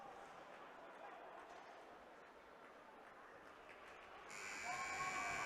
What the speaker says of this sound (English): And the buzzer goes to finish this first period.